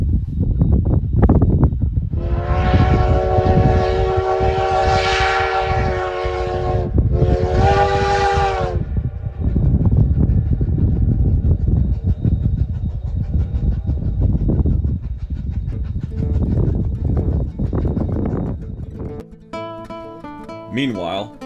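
A narrow-gauge steam train, the 488, pulls into Osier station, rumbling and clattering loudly while its horn blasts a long sustained note, then a shorter second one; wheels squeal and clank as it slows.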